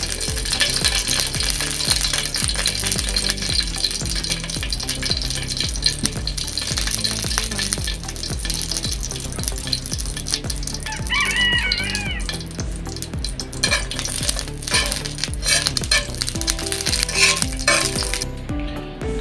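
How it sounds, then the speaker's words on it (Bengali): A steady dry sizzle and rattle of dried chilies frying in a pan, with light clinks and stirring scrapes throughout. "এখন আমরা শুকনা মরিচ সুন্দর করে ভাজা নিতে আসি"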